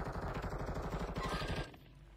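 Rapid automatic gunfire in a video game, a fast burst of loud, close shots that rattle on for about a second and a half before stopping.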